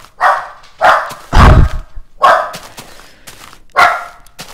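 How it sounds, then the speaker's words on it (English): A dog barks repeatedly nearby, with about five sharp, loud barks at irregular intervals, one of them deeper and rougher, and no talking in between. "If you can hear my freakish dog in the background,"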